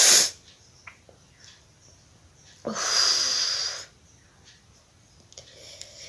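A person blowing their nose and snorting with a runny nose during a sneezing challenge: a sharp blast at the start, then a longer hissing blow, with faint sniffs between, close to the microphone.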